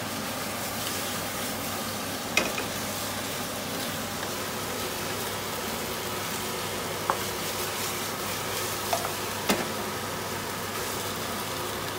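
Salt and chilli chicken wings in a hot pan give off a continuous broadband sizzle and hiss, with occasional faint clinks as the pieces are mixed. There is no talking.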